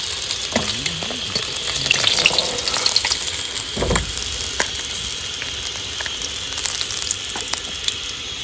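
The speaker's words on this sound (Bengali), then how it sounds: "লাল লাল করে ভাজছি।" Fish fry in hot oil at an outdoor riverside cooking spot, a continuous close sizzle with scattered spatter pops and a few clinks and scrapes of a utensil against the pan.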